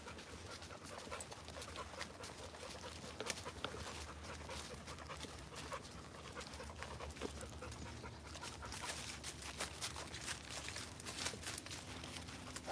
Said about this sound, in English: I'm sure everyone can hear the dogs panting.